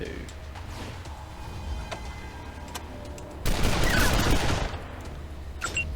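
Gunfire in the video game Wasteland 2 comes as a single dense, noisy burst lasting about a second and a half midway, over a steady game ambience, with a person talking.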